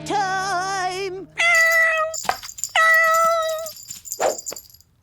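A cartoon cat caterwauls at bath time in loud, wavering yowls, three long drawn-out bursts separated by short gaps, followed by a brief lower wail at the end.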